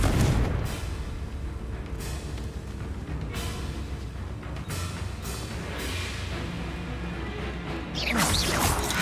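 A Confringo fire spell blast in Hogwarts Legacy played on PS5: a continuous roar of explosive, crashing impacts with repeated sharp bursts over a low rumble, and a fresh loud whooshing blast near the end.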